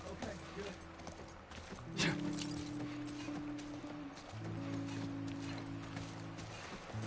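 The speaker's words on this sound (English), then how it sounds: "I still don't like horse gameplay in Last of Us." Horse hooves clip-clopping in The Last of Us Part I video game, a steady trotting rhythm under game music and ambient tones, fairly quiet.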